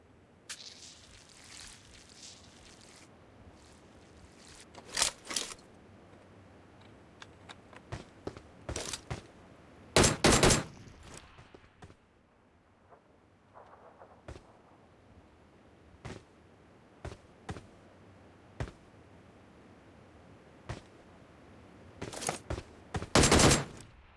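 PUBG Mobile gunfire on the Erangel map rings out in sharp, loud bursts around a few moments, with scattered single shots and short rattles between them over quiet background ambience.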